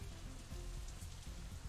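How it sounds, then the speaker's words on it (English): Rain falling outside in the visual novel Katawa Shoujo, a soft steady patter with a low rumbling bed, continuous and moderately quiet throughout. "it's still raining outside when we exit the Shanghai"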